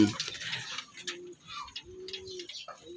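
Racing pigeons coo in soft, low repeated calls nearby, with scattered chirps, rustles and flutters in the background.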